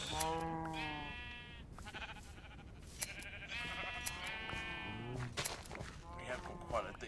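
Several sheep in Minecraft Bedrock bleat in repeated, wavering calls, some overlapping, at moderate loudness over a faint background.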